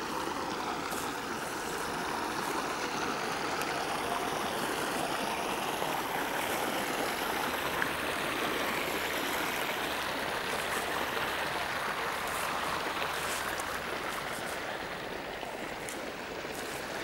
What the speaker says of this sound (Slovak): odkiaľ tečie potok Lukavice